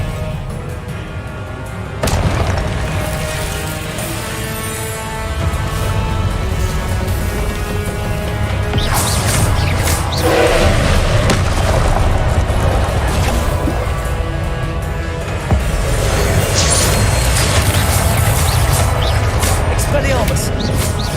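Spell-casting combat in the Hogwarts Legacy video game: continuous magical blasts, impacts and whooshing effects layered over game music, loud and dense throughout, with voices calling out.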